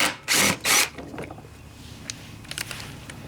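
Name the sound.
3/8 socket ratchet removing rusty bolts on Troy-Bilt lawnmower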